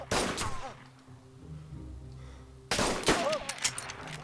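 Gunfire in DayZ Standalone: loud broadband bursts at the start, a lull with faint hum, then another burst of shots near the end, with voices talking over the action.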